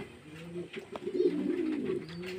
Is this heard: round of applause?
no